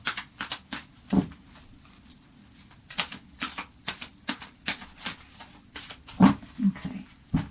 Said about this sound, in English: I'll just do a final shuffle